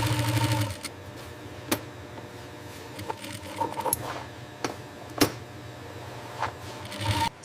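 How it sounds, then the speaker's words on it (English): A factory sewing machine stitches a pocket welt in bison leather. A brief whirring run at the start gives way to scattered, sharp mechanical clicks and taps, close by and irregularly spaced. "This is the pocket welt stitching, high quality bison leather, as you can see by the texture."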